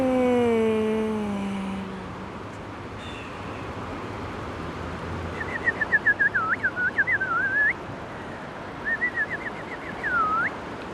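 A person whistles in imitation of birdsong, giving bursts of quick, warbling chirps and trills that come in two short groups, fairly faint, after a fading tonal hum at the start.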